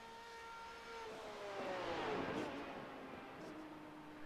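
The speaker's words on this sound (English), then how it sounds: "the Aston Martin, out there on track trying to make something happen" Sports car racing during an open qualifying session of the Legacy Sports Car Series, with LMP2, GT1 and Daytona Prototype classes on track: a distant engine drone swells as a car passes, then fades.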